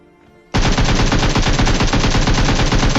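Automatic gunfire in the mobile battle royale game PUBG Mobile bursts in loudly after a quiet half second and runs as a rapid, continuous string of close shots to the end.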